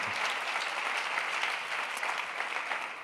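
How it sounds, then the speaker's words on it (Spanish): Applause from a church congregation during a Spanish-language sermon, a steady wash of many hands clapping at full strength for about three seconds, with no talk over it. "Si va a aplaudir al Rey, hágale con fuerza"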